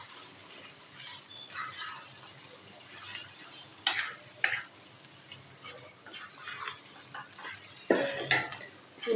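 Chicken pieces are mixed and cooked in a pan, with clinking utensil scrapes and stirring over a light sizzle; a few louder knocks stand out, close by and without talk.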